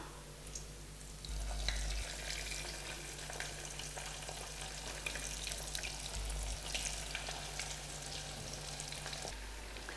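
Continuous crackling sizzle of fish frying in hot oil, close and steady, with occasional stirring noises and a low hum beneath.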